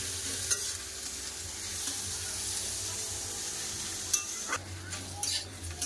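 Ridge gourd sizzles steadily in a hot pan, with occasional scraping and stirring clatters breaking through the constant frying hiss.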